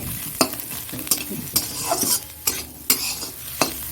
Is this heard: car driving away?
no